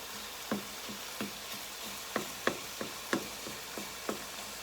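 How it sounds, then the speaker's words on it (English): Ground beef browning in a frying pan, a steady sizzle underneath while a spatula chops and scrapes through the meat in irregular taps and knocks, close and fairly quiet, with no talking. "Now I'm sitting here chopping. Just all over the pan, chopping it"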